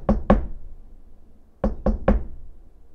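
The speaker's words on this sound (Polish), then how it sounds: "pani najpierw puka. Zazwyczaj dwa razy" Knocking on a hotel room door, loud and close: two sharp knocks, a pause, then three more in quick succession, with no talk.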